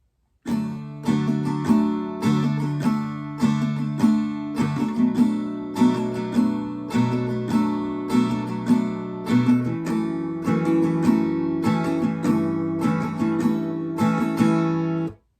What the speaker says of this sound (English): And the entirety of the first line of verse 1 would sound like this.